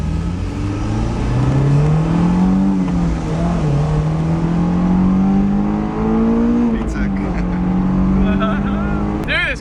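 A Honda S2000 engine revs while driving, rising and falling in pitch as it climbs through the gears, loud and close from inside the cabin, with brief talk near the end.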